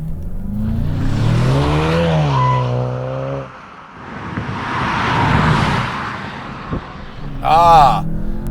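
A Volkswagen GLI with manual transmission drives downhill in sport mode, the engine revving and rising in pitch before easing off, a second climb near the end, with someone talking over it.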